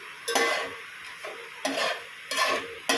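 Cloves sautéing in a pan for chicken biryani, a soft sizzle broken by four distinct scraping stir strokes spaced roughly a second apart, close and clear.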